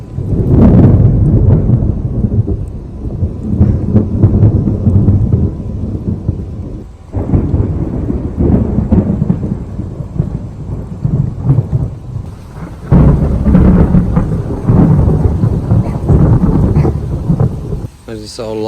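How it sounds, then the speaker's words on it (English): Deep thunder rumbles roll across a summer sky with little rain falling, the loud low roar swelling and fading in long waves with a few faint drops and a breath of wind. "Doing some serious rumbling in the sky,"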